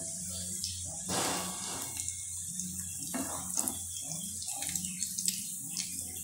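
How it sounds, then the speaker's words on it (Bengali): Vegetable chops frying in hot oil, a continuous close sizzle and crackle with brief louder spurts as pieces are moved, and no talk. "এখন আগে এই কটা ভেজে নেব।"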